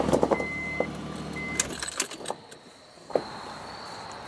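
Car engine idling briefly during an oil change, with a short tonal whine and clicks, then the engine shuts off and the garage falls quiet apart from a single knock.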